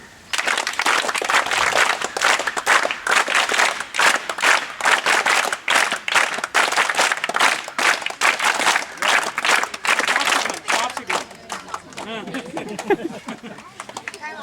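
An audience at an NGO training session with Lead India claps in a rhythmic counted pattern, with bursts of fairly loud group clapping running through most of the stretch before fading near the end.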